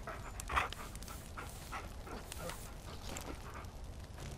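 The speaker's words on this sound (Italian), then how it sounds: "Una scarezzatina al cane." A dog pants in short, rapid breaths as it is petted in the video game Far Cry Primal, heard close and steady over low ambient game background noise.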